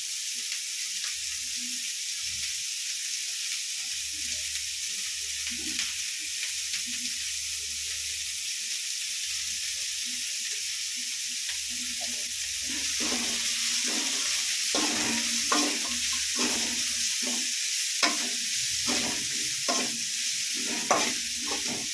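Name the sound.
garlic and onions sautéing in a pan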